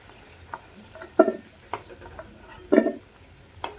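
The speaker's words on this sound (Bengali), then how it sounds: "আলুটা আমি ভালো করে লাল লাল করে ভেজে নেব" Potatoes frying in oil for a vegetarian aloo dum, with a soft background sizzle broken by several sharp, close scraping and clinking bursts as they are stirred and turned in the pan.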